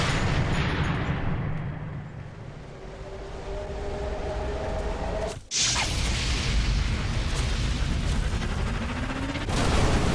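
Sniper Elite 3 video game: a sharp rifle shot sets off a gas tank, with a single loud broadband blast about midway through a steady, dense rumble of ambient game background noise.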